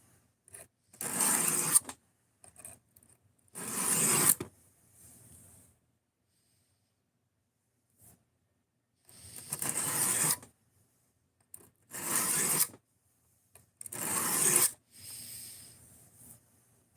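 A knife blade is rubbed across a 200 grit whetstone in rough, rasping strokes that come in bursts of one to two seconds, separated by pauses and quiet gaps. The sound is close and there is no talk.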